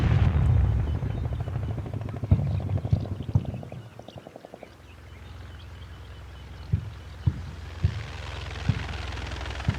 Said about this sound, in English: That might not be my Mi-28s. That might be Ukrainian helicopter forces.